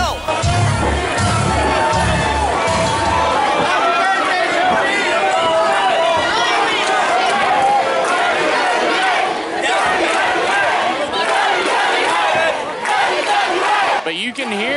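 Loud, dense crowd cheering and shouting fills a wrestling event arena throughout, with steady roaring and chanting that never drops away.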